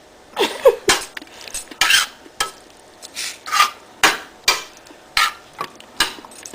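Stirring tomato sauce into meat in a pan: a series of spaced scraping and clinking strokes of a utensil against the pan, close and fairly loud, with quiet gaps between strokes.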